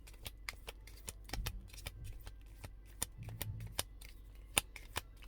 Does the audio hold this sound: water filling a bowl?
no